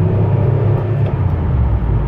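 Inside a 2006 Impala SS with a 4T65E-HD transmission and a replacement torque converter, a steady low road rumble and engine drone holds as the converter locks up. The sound is continuous and even, with no talking.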